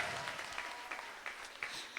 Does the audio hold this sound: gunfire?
no